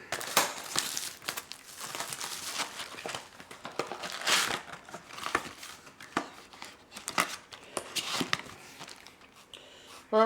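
Cardboard and plastic packaging of a Final Fantasy Monarch card box are ripped open and crumpled, with irregular close crinkles, tears and rustling handling noises through the whole stretch.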